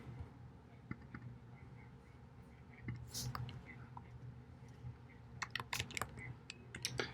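Quiet typing on a computer keyboard, soft scattered key clicks that pick up into a quicker burst near the end, under a low steady room hum and faint murmured speech.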